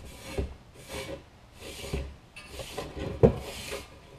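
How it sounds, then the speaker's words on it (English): A Scotch-Brite pad scuffs an MBRP exhaust tip on a Dodge Ram, a series of about six rasping back-and-forth strokes at steady rhythm, close and moderately loud with no talking. "this one Scotch-Brite should do this whole tip pretty easy"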